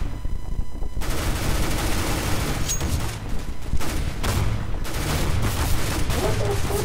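Continuous bursts of gunfire in Counter-Strike: Global Offensive, rapid automatic shots and sharp reports layered over one another, loud and sustained throughout.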